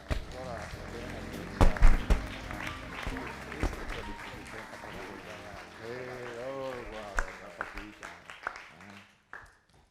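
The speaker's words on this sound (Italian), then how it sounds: "È con noi, un grosso applauso," Scattered applause from an audience at a public talk on a UNESCO heritage candidacy, fairly close, with voices and talk over it throughout.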